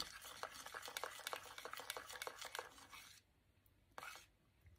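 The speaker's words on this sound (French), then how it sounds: "Il faut vraiment mélanger le tout, que ça se mélange bien." A spoon stirring pomegranate juice into a lip balm mixture, quick rhythmic scraping and tapping for about three seconds, then a short pause and one more brief stir.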